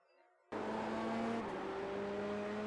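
An F3 race car in the iRacing simulator at the Nürburgring GP circuit cuts in abruptly and loud, its engine droning at high revs under throttle with a steady, slightly shifting pitch.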